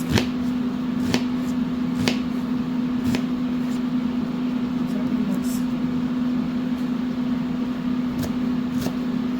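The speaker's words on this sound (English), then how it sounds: "I'm just going to try to cut them small so you don't get a giant chunk" A knife chops vegetables small on a cutting board for turkey and bowtie soup, sharp isolated taps spaced about a second apart over a steady low hum.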